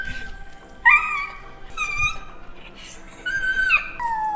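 A pet dog gives high, thin whimpering cries in short, uneven bursts, close and fairly quiet, with a soft voice murmuring now and then.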